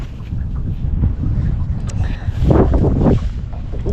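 Strong wind buffets the microphone in steady, rumbling gusts during an autumn predatory-fish angling session outdoors, loud and continuous, with a heavier surge midway.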